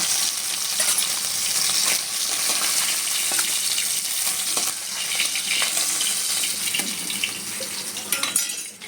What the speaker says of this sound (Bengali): এভাবে উল্টিয়ে মাছগুলো একটু ভেজে নেবো হালকা করে।